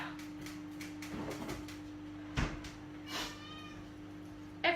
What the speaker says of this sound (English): Every time my cat sees me in the kitchen, she thinks I'm getting her food.